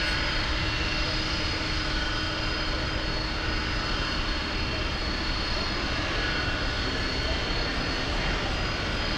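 At Miami International Airport, an aircraft's engines roar steadily and loudly during takeoff, a continuous broadband rush that holds for the whole stretch without a break.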